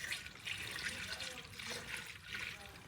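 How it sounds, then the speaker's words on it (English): Premixed coolant poured into the cooling system of a 1993 Cadillac Coupe DeVille after a water pump replacement: a faint, steady liquid trickle and gurgle, with a voice murmuring quietly underneath. "Putting coolant in, man."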